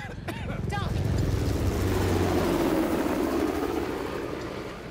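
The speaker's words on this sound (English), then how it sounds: "How the hell did Asav get that helicopter?" A helicopter in the action game Uncharted: The Lost Legacy gives a steady, loud rotor-and-engine drone that swells and holds for several seconds, with rumbling game ambience beneath and brief sound effects at the start.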